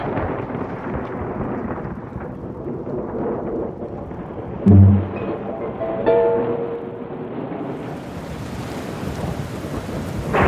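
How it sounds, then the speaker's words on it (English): Heavy rain pours steadily while thunder rumbles, with a deeper roll in the middle and another later, a loud and continuous storm with no voices. "But the rains came and washed the tracks away."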